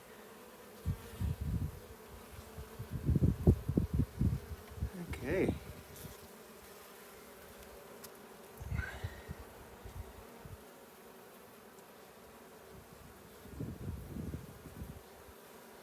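Honey bees hum around an opened hive during a spring inspection, the close buzzing rising and falling in several loud bursts, with a single brief spoken word partway through.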